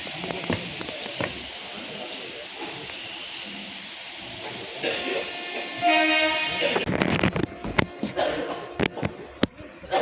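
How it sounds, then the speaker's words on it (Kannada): A train to Tirupati rumbles and clatters along the tracks nearby, with a horn sounding partway through and rhythmic wheel clacks continuing to the end. "ಖುಷಿ ಖುಷಿ ಹೋಯ್ತಾ ಇದೆ ಟ್ರೈನ್"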